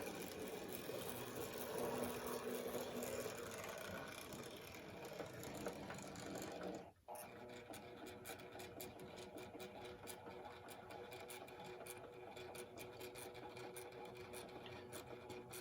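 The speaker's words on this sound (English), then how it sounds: "This is just simply two pretty well serviced locomotives" Two vintage Wrenn Class 20 model locomotives double-head along a track, a steady whirring motor buzz with rapid rhythmic clicking of wheels; a brief dropout midway, then the running resumes, faint and close-miked with no talk.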